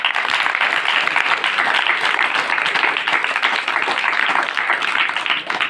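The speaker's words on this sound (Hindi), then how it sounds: "एक बार ताली बजा दो।" A group claps in applause during a training session, a dense, steady burst of many hands close by that lasts about six seconds.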